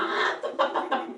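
A voice imitates chickens clucking, a quick series of short nasal clucks at close range during a told story.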